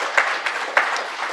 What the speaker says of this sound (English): Could we give them a round of applause, please?